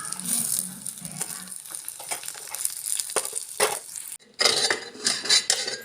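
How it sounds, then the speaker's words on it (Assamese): Spices frying on very low heat in hot oil for Assamese arhar dal tadka, a soft steady crackle and sizzle with occasional clinks of a utensil against the pan, close by, no talking. "এইখিনি ব্ৰাউন হোৱালৈকে কম জুইত একেবাৰে চিমত দি ভাজি আছোঁ।"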